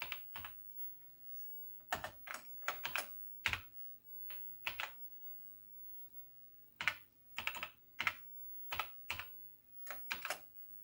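An Atari 800XL computer keyboard is typed on in short bursts of sharp, close clicks, with quiet gaps between the groups of keystrokes.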